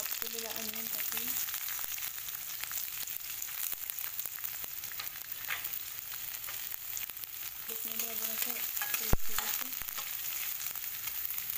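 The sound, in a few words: onion, garlic and curry leaves sautéing in a pan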